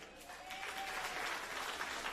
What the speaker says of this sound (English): stand up and give them a round of applause right now